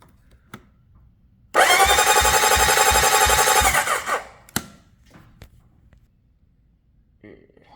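Honda CB750 four-stroke motorcycle engine cranking over on the starter during a compression check, a loud steady churning whir with rhythmic pulses lasting about two and a half seconds, then cutting off, followed by faint clicks.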